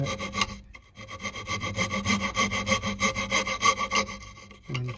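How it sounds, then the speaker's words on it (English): A hand saw trims a piece of wood for a small seat for cuddly toys, making a steady run of close, rasping back-and-forth strokes that stop briefly near the start and again at the end. "You can even trim it up with a saw if you're careful."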